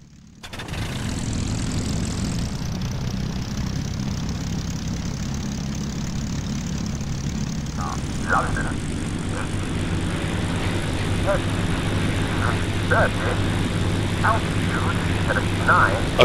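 Spitfire and Blenheim aircraft engines drone steadily in a flight sim game, a loud continuous propeller hum with a low rumble throughout, joined by brief higher crackles in the second half.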